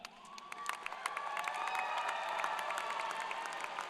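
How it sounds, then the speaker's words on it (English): Graduation ceremony crowd applauding students, steady dense clapping with scattered cheers and whoops building slightly and holding through, mid-distance in a large hall. "let's give them a round of applause"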